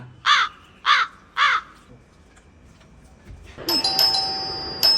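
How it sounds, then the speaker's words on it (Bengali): A doorbell chimes in three quick repeated rings, then a brighter electronic chime tone sounds and lingers near the end. "এর তখন তোর কলিং বেল বাজাচ্ছে"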